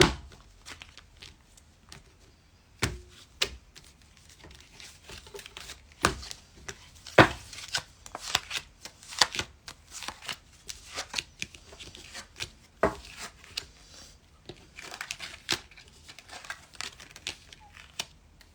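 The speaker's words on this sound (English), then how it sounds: "Cut the deck." A deck of tarot cards being cut and shuffled close by, with crisp riffles, slaps and soft patter in irregular bursts and no voices.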